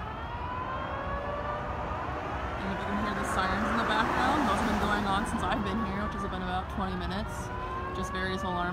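A wailing siren rises and falls in the distance over steady street noise near a fire at a pet food production plant in Topeka, with people talking nearby throughout.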